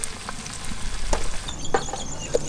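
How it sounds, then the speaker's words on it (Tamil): Onions sauté in a pan for a spicy tiger prawn garlic curry, giving a soft continuous sizzle broken by a few light stirring clicks and scrapes. "வெங்காயம் நல்லா வதங்கிட்டோம்க்கா."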